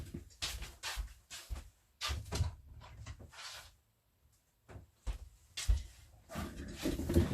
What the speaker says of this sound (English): I just need to open this door